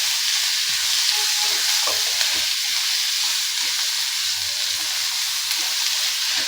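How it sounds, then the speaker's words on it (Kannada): Finely chopped onions fry and get stirred in hot oil for hotel-style idli sambar, a loud, steady close-up sizzle with faint scraping of the spoon in the pan and no talking. "ಗೋಲ್ಡನ್ ಬ್ರೌನ್ ಬರೋ ತನಕ ಫ್ರೈ ಮಾಡ್ಕೊಳ್ಳಿ."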